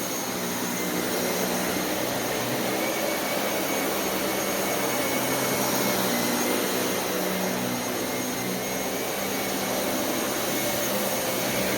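Dyson Cinetic Big Ball UP14 (DC77) vacuum cleaner running, a loud, constant broadband roar and whine with no break, close up and without talk.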